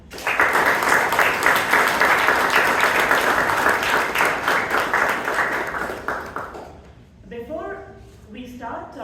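Loud, sustained applause welcoming new members at a Toastmasters club meeting in Bangalore, fading after several seconds as a speaker's voice takes over.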